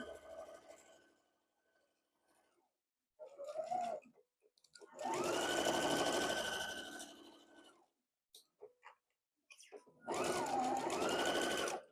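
A sewing machine stitches a quilt seam in bursts, whirring loudly for a few seconds at a time between quiet pauses and short starts, close by with no talk over it.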